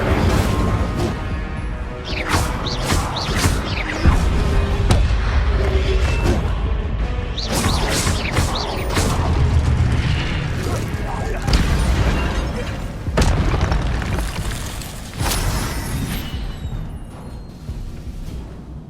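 Fire spells blast repeatedly in a video game, with loud booming crashes and bursts one after another over a dense, busy background. A voice can be heard at times.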